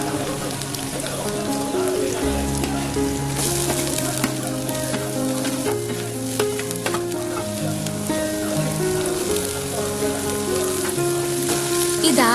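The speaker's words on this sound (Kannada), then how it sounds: "ಈಗ ಹಸಿ ಮೆಣಸಿನಕಾಯಿ ಮತ್ತೆ ಈರುಳ್ಳಿ ಹಾಕಿ ಇದು ಸ್ವಲ್ಪ ಹಸಿ ವಾಸನೆ ಹೋಗೋವರೆಗೂ ಫ್ರೈ ಮಾಡ್ಕೋಬೇಕು" Green chillies and onions frying in a pan make a loud, continuous sizzle with occasional stirring scrapes, under steady background music.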